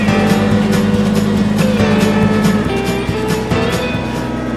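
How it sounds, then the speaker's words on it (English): A backhoe's diesel engine labors steadily at close range while pulling a heavy object up out of a hole on a nature trail, a loud continuous drone with some clanks. "I think I'm going to try to pull it ahead more with the backhoe first."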